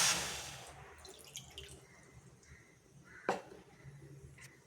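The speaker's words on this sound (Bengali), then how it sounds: "কড়াটায় পানি দিয়ে দিচ্ছি।" Water splashes briefly into a kadai cooking pan at the start, tapering into soft drips and faint clinks, quiet and close by.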